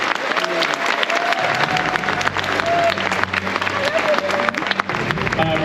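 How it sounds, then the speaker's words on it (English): Sustained applause from a large crowd, steady and dense clapping with some cheering mixed in, continuing throughout. "a huge round of applause for the cast of the Alien"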